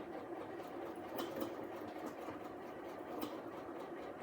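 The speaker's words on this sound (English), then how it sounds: "I forgot my back stitch at the end." A sewing machine runs back stitches at the end of a seam on a pillow cover, a quiet steady mechanical hum and whir with faint rhythmic ticking, heard alone at a modest distance.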